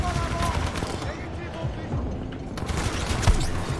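Gunfire from a Mosin rifle and other weapons crackles in Titanfall 2, with rapid bursts and sharp cracks over a dense battle din, one louder shot near the end, and a player talking throughout.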